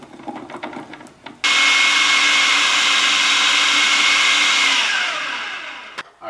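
A countertop blender purees chickpeas into creamy hummus, starting with a few clicks and knocks, then roaring at a loud, steady whine for about four seconds before winding down and stopping, with no speech.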